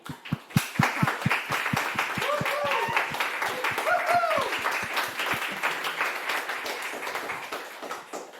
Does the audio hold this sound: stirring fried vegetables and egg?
no